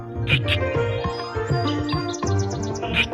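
Crow in a Meena video game, short bright bird calls repeating over a steady musical background, fairly close and clear.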